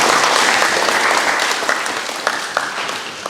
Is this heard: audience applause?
yes